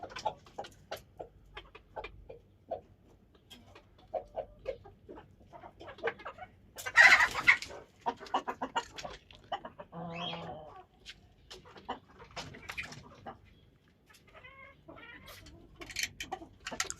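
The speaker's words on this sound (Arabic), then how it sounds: "شوف الديش حتى ذيلا طايح" Chickens clucking around a rooster in a small backyard aviary of pet birds, a busy scattered chorus of short calls with one louder squawk partway through, fairly close and with no talk over it.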